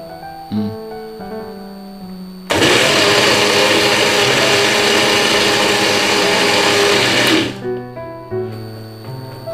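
A blender runs again on chili sambal, kicking in abruptly with a loud, steady whir for about five seconds before stopping, with quieter kitchen sounds before and after.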